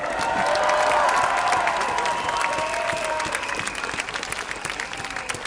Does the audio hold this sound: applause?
yes